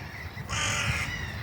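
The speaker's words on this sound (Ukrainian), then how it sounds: "І потім оця ворона дає свій голос, але ж вона теж має право на цей голос." A crow caws loudly outdoors in a single drawn-out call, close by, over faint background ambience.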